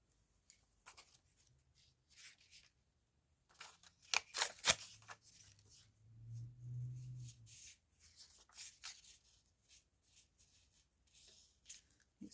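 Scissors snip the white edge off a handmade card in a quiet room, a few close, crisp cuts with soft paper rustling and handling between them.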